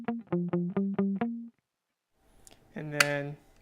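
Six quick, dark, muffled electric guitar notes are bass-picked for reggae with the tone knob all the way down, in a steady rhythm, then a short pause before a brighter sustained tone rings out.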